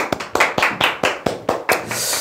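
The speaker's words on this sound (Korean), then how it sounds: "네, 박수." A small group claps in a loose, uneven rhythm, about nine distinct, close claps over two seconds, trailing off at the end.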